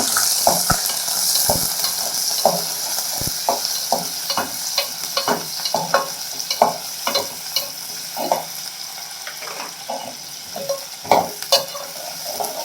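Onions and green chillies fry in a pan with a constant crackling sizzle, broken by frequent spoon scrapes and knocks against the pan, and no one speaks.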